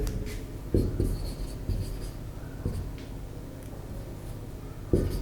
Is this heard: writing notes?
yes